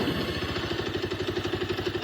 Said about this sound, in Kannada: ಥ್ರಾಟಲ್ ಕೊಟ್ಟಾಗ ಸಿಗೋ ರೆಸ್ಪಾನ್ಸ್ ಮತ್ತು ಈ ಇಂಜಿನ್ ಸೌಂಡ್